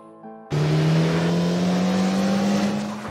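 Car speeding toward a woman crossing a street: after a short quiet start, a sudden loud engine roar bursts in and holds steady with a strong low hum and tire rush, close by.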